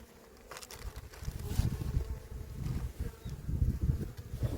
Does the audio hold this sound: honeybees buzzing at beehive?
yes